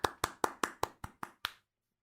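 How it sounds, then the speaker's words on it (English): Eight slow, evenly spaced hand claps, sarcastic in tone, sharp and close, each about a quarter second apart, then silence. "is that a slow clap,"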